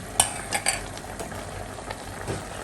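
Stirring in a cooking pot as a little broth goes into softening vegetables for igado: a few sharp clinks of a utensil against the pot near the start, then soft scraping and a low simmering wash.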